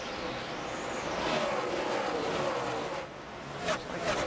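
NASCAR NEXTEL Cup stock cars racing at Dover in 2005, a loud continuous engine roar from the pack that swells as cars pass close, with a brief dip and surge near the end.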